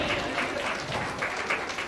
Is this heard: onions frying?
no